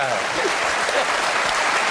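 Studio audience on a Dutch television game show applauding, a dense, even wash of clapping from a full room that holds steady throughout.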